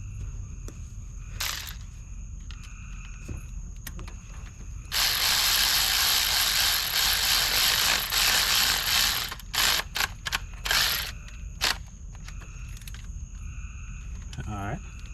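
A ratchet turns a 10 mm bolt on the bracket of a Honda VTEC solenoid. It makes bursts of close, dry clicking, with a steady stretch of rapid ratcheting in the middle and short clicks after it, over faint background noise.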